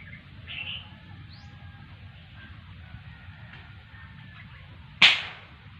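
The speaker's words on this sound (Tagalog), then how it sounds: "Tetestingin natin tong baril ni pare ko kung maganda tumama" A friend's air gun fires once at a bird perched in a small tree, giving a single sharp, fairly close crack late in the clip over steady outdoor ambience and faint bird calls.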